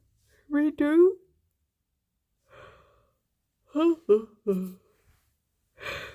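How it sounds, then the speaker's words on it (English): A single person gives a long, voiced yawn in a quiet room, followed by scattered soft breaths, sighs and a short gasping exhale. "Big yawns."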